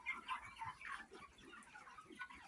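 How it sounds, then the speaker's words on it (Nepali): Broiler chickens on a Nepali household farm cluck in a busy, overlapping chorus of short calls, steady and fairly close throughout. "ब्रोइलर कुखुरा दिदीको घरको"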